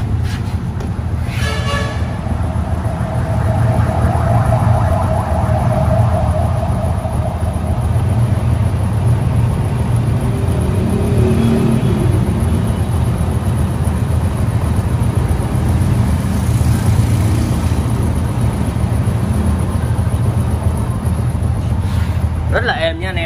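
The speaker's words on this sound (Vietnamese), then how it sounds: "tiếng máy này." A 2003 Honda Wave Alpha motorcycle engine runs steadily at idle, heard close as a constant, dense mechanical hum and rumble that carries on without a break.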